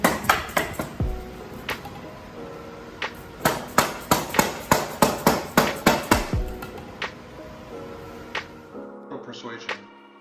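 Bolts are hammered into a wooden folding hammock stand: a rhythmic series of sharp, close metallic blows, sometimes spaced out and sometimes in quick runs, ringing briefly after each strike.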